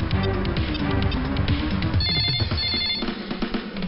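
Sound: telephone ringing during a call

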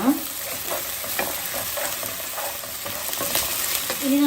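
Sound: frying onions with ginger garlic paste in a pan

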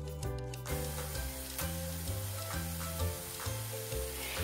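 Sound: masala-coated paneer frying in oil in a pan

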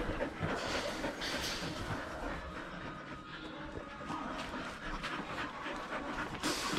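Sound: dog panting

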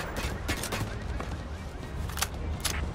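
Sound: overkill weapon gunfire in Payday 3 video game

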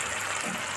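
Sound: water being poured into a pan of broad beans

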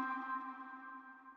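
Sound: short ping pong delay echo on a music synth stab

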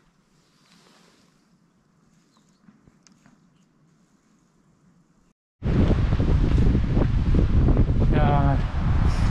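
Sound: wind blowing on mountain

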